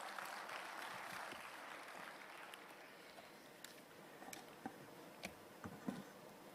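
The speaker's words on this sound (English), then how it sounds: "Let's have a huge round of applause for Dr." An audience applauds steadily at an ISRO satellite launch event, a distant, even wash of clapping that thins toward the end, with a few sharper individual claps standing out.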